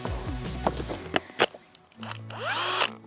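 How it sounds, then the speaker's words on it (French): A small electric power drill whirs briefly as its motor spins up near the end, following scattered tool handling knocks, close and moderately loud in a DIY workshop setting, with wood from pallets as the workpiece. "petite perceuse."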